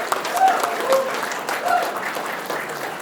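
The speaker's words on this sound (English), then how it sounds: "let's give a big round of applause to the county party for putting on this great event." Applause rises from the audience at a Rockwall County Republican Party evening event, a steady wash of clapping with faint voices mixed in.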